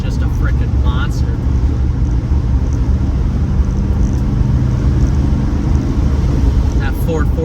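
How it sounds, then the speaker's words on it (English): Deep, continuous rumble of a 1967 Chrysler 300's 440 V8 while driving, loud and close, with occasional faint higher noises over it. "That 440 V8 just rumbles."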